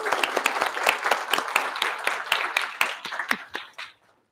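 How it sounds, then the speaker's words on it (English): Audience at a science lecture on magma diffusion and crystals gives a round of applause, a dense patter of claps from a crowd that holds steady and then thins out and stops near the end. "Jeff from Vindman's Bakery, round of applause, please."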